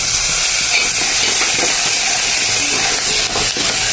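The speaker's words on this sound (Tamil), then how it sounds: "நல்லா பச்சை வாசனை வராத அளவுக்கு வதக்கணும்." Rasam powder and curry leaves sautéing in a hot pan, producing a loud, continuous crackling sizzle close by that holds steady from start to finish.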